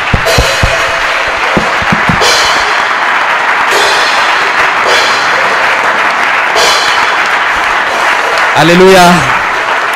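A church congregation claps and cheers loudly after a voice calls out, the applause sustained with a few sharp claps near the start and singing-like voice at the end.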